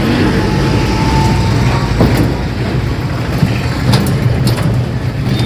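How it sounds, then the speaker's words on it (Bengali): A train rolls past near a bridge, producing a loud, continuous rumble and roar that holds steady throughout, with faint metallic squeals and clatter on top. "ওই দিক দিয়ে কিন্তু ট্রেন যায় বাবা, ওই দেশটা দিয়ে"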